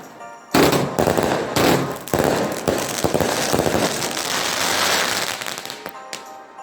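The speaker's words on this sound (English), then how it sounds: "one of my new favourite cakes. And that's the Bigstar Fireworks 78 Shot Fury." A Bigstar Fireworks 78 Shot Fury cake erupts in a loud, dense barrage of cracking shots and crackle that fires nonstop for several seconds, then thins out to a few last pops.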